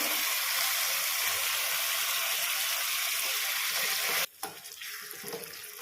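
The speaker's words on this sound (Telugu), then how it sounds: "ఈ తాలింపులో పచ్చడి వేసాము కదా ఇప్పుడు ఒక టూ మినిట్స్ ఉంచుకోవాలి" A steady, bright hiss of red chilli and raw mango chutney frying in hot tempering oil fills most of the stretch, then drops away abruptly, leaving quieter crackling.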